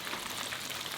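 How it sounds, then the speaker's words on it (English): Salmon frying in hot oil until crispy gives a dense, steady sizzle with constant crackling and spitting. It is fairly loud and close, with no talk. "Fry until crispy for about 3 minutes."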